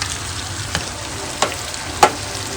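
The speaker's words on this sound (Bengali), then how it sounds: "আর এর মধ্যে যে ফ্রাই করা চিকেনটা ছিল সেই চিকেনটা দিয়ে দেবো এর মধ্যে" Fried chicken pieces are added to chilli sauce in a pan and give off a soft, steady sizzle, broken by a few sharp spatula clinks as the pan is stirred.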